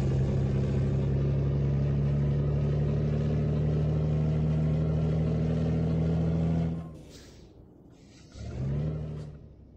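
Deep, steady roar of a Daimler Freightliner Inspiration truck engine in Euro Truck Simulator, loud and sustained with a strong low hum, cutting out near the end before a brief rise again.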